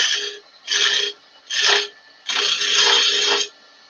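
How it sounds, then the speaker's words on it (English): Roughing gouge cutting a spinning wood blank on a lathe with the tailstock removed, four rasping scraping passes, three short ones then a longer sustained cut, close and loud. "when you take the tailstock away using a roughing gouge"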